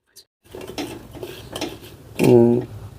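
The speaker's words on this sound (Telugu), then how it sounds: "ఇప్పుడు ఈ బెండకాయల్ని ఇలా కలిపేసుకుందాం" A spoon stirs and scrapes through cut okra (bendakaya) tossed with lemon juice, salt and spices in a bowl, giving soft close scrapes and then a louder clinking rattle against the dish.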